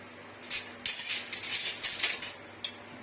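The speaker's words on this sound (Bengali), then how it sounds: "বড় চামচটা দিয়ে একটু নেড়ে দেবো।" A big spoon stirring ginger tea in a pot, giving a series of quick metallic scrapes and clinks against the pot, close and fairly loud, clustered over a few seconds with no talking.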